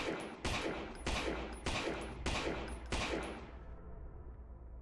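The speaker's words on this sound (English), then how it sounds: "I am going to take some pot shots." Five evenly spaced gunshots ring out in the video game Lost in Vivo, each loud and sharp with a brief echoing tail, the last one fading away.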